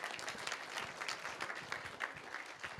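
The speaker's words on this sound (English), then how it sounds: "can we have a round of applause for Divyangini?" Brief burst of audience applause at a reading room inauguration event, a lively patter of many hands clapping at moderate volume, uneven and crowd-like throughout the short stretch.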